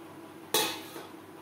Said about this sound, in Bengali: হলুদের সাথে লাউ বেশ ভালো করে মিক্সড করে দেব।